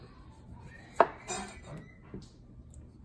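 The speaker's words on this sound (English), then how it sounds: "But I'm just gonna go ahead and chop the ends off" A scalloped-edge knife cuts the ends off freshly harvested cucumbers on a board: one crisp, sharp chop followed by a couple of softer knocks, quiet and close.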